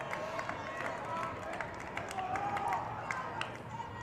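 Columbia student crowd behind the dugout cheering at a high school baseball Class 2A championship game, a steady roar of voices with scattered claps and shouts throughout, loud and sustained.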